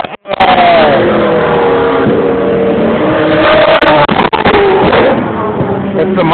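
A Porsche 962 race car engine roars loudly and steadily at high revs, a close, sustained drone with slight pitch shifts as it runs past, preceded by a short sharp click.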